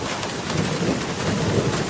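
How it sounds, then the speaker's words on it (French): Rain falling steadily with low rumbling thunder underneath, a continuous dense wash of downpour heard from nearby, with no voices. "Il est incroyable ce temps, hein. Il pleut puis ça s'arrête"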